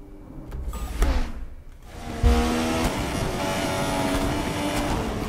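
Formula 1 race car engine in the F1 2016 video game, Australian Grand Prix: a whining engine revs up, cuts out briefly, then roars back into a steady high-pitched drone, loud and alone.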